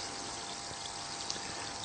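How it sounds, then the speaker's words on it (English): Steady fizzing and bubbling of water in a new HHO electrolysis cell with unconditioned plates, a dense continuous hiss at moderate level with no talk. "there's a hell of a lot of bubbles coming up off that"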